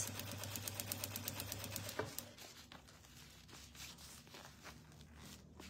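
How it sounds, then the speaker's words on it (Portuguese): A home sewing machine stitches fabric for an Easter pot-holder mitt, a quick steady whirring hum with rapid needle ticks for about two seconds, then stops and leaves faint handling rustles and taps. "o pezinho na base do tecido aqui e venho costurando"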